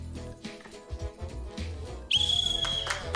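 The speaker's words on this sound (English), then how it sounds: "Pens down when I blow my whistle." A single sharp, shrill whistle blast cuts in partway through, sustained for about a second over faint background murmur.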